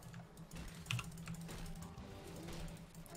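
Quick, clattering keystrokes on a mechanical keyboard sound close to a sensitive microphone, a continuous run of uneven taps with no talking.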